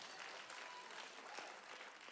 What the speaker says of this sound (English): Somebody clap hand to Jesus.